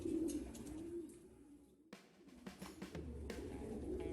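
Pigeons in a loft give soft, low cooing near the start and end, with scattered clicks and fluttery knocks in between and no talk.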